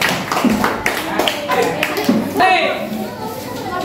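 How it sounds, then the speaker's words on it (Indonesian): A class of primary pupils claps for a group of classmates, a brief scattered round of hand claps mixed with voices and a teacher speaking. "Beri tepuk tangan untuk kelompok 5, kelompok terakhir."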